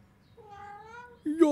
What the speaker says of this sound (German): Nachdem wir die Katze gefüttert haben, die hat nämlich Hunger.